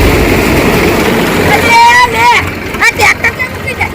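A tractor engine runs in a low, rough rumble, then people's voices shout and talk loudly over it.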